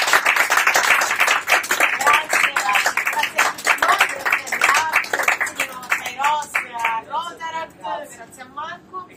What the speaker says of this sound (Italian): Allora c'è un applauso a Domenico